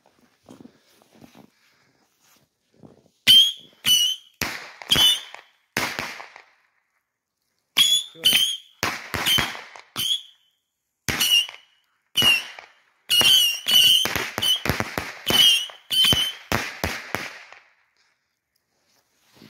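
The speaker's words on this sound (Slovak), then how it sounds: "Scream mini rocket. Pískajúce raketky za zmenej." A 25-shot Compact Scream mini rocket fireworks cake fires loud whistling rockets in quick bursts, each shrill screech followed by the next in uneven clusters, with pauses between volleys.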